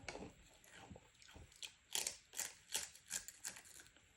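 Someone crunches on very spicy chips, a run of crisp, close bites and chewing that grow louder and more regular, with about six sharp crunches near the end and no talk.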